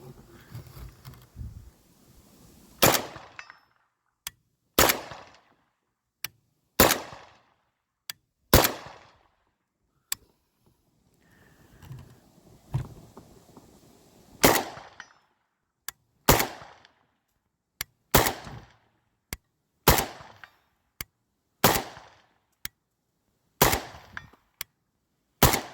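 A PSA AK101 rifle fires at targets 200 yards away, loud sharp single gunshots spaced a few seconds apart, sometimes in quick pairs, each with a short ringing tail across a quiet outdoor range.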